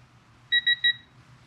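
Three short, high-pitched electronic beeps in quick even succession from a digital torque adapter set at 14 foot-pounds, during timing chain installation on a Toyota 1GR-FE engine, close by, over a faint low hum.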